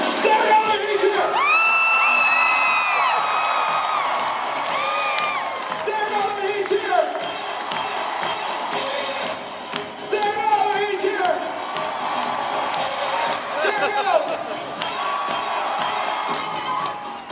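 Seminar audience cheering loudly with whoops and yells throughout, a dense crowd roar that swells at the start and surges again in bursts, shouting voices mixed in.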